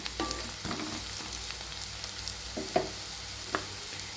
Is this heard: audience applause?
no